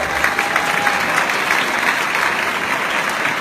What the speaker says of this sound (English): Let's give Amory Gusmello a great big round of applause